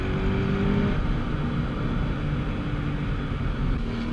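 E85-tuned Scion FR-S engine pulling through canyon corners, a steady loud engine drone with a faint whine that shifts in pitch early on, heard from inside the car.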